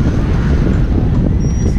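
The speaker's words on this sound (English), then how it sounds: "It's very windy here." Steady, roaring strong wind buffets the microphone on a cycling trip near Concepción, with constant low rumble throughout, loud and unbroken, with no voices.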